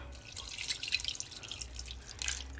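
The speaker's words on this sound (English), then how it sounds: "I'm going to add 1 cup of water" A cup of water poured into a pot holding two sticks of butter, a steady close splashing trickle with dripping that runs for a few seconds, no talking.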